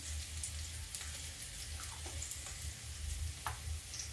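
Asafoetida (hing) dropped into hot oil for a winter brinjal and methi sabji, a steady, hissy sizzle with low bubbling, continuous and close, without voices.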